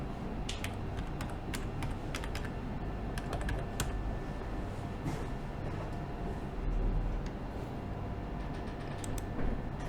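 Continuous rapid typing on a computer keyboard at a Windows 10 PC, with dense clicky keystrokes close by over a steady low room hum, and no talking.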